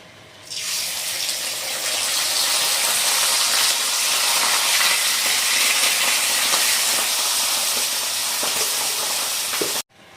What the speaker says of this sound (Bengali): আর এখন এর মধ্যেই অনু দিয়ে নেবে যে ভিজিয়ে রেখেছিল চাল